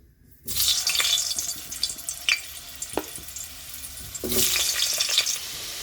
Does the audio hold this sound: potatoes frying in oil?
yes